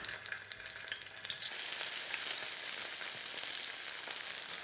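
Prawns dropped into hot olive oil in a paella pan, quiet at first and then bursting into a loud, steady, crackling sizzle that carries on close by.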